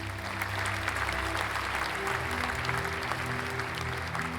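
A round of congratulatory applause, many hands clapping in a dense, steady patter with a faint low hum beneath and no voices.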